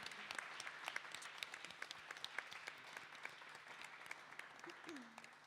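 Audience at a songwriters' circle applauds a singer, a dense, steady patter of clapping heard from within the room, fairly faint overall with a few sharper individual claps and a brief voice near the end.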